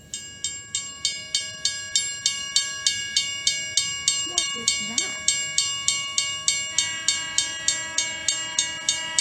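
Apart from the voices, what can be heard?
train bells and whistle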